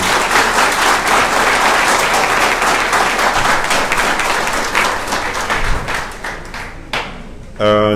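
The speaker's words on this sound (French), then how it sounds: "Je vous prie, s'il vous plaît, de vous lever et applaudir très très fort le Père Jomanas Eustache." Audience at a ceremony honouring a pastor rises and applauds very loudly, with dense sustained clapping filling the whole stretch before it thins slightly at the end as a voice cuts in.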